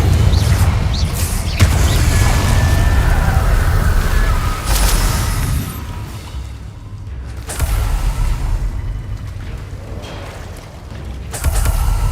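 A Confringo fire spell blasting in a Harry Potter game, heavy booming explosions with crashing debris and whooshes, loud at first, fading, then erupting again near the end.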